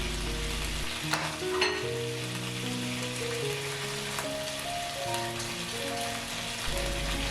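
Dried chili and Sichuan pepper frying in a wok, a steady close hiss and crackle that runs the full length without a break, with no talking.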